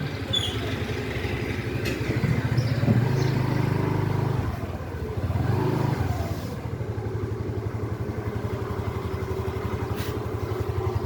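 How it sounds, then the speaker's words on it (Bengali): Motorcycle engine running steadily nearby at a village bazaar, a continuous low mechanical drone with a rise around the middle, clattering under a constant hum and no talk. "মোটরসাইকেল"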